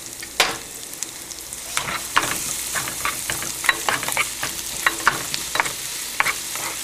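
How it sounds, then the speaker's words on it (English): Minced garlic sizzles gently in melted butter in a pan for potato patties, a steady frying hiss punctuated by sharp stirring clicks and scrapes of a utensil, close and alone without talk. "All I want is the garlic to sweat and impart its flavor into the butter."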